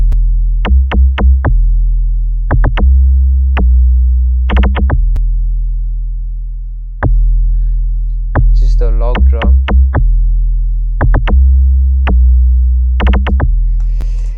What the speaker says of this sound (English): And then we got the log drum here.